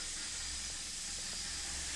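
Cumin seeds sizzle in hot oil with a steady, close hiss that holds at an even level for the whole moment.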